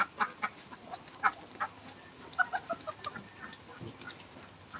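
Ducks in a farmyard after rain quack and call in short, scattered bursts, some fairly close and others farther off, over a quiet outdoor background.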